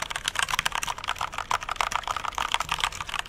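Keys on a Corsair mechanical keyboard with red switches are typed in a quick, dense, continuous patter of sharp clicks, close and moderately loud.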